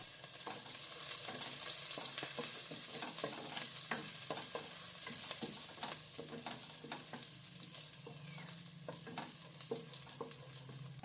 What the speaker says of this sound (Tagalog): Ilagay na din natin ang ating bawang. Ayan, lutuin lang natin ang ating bawang.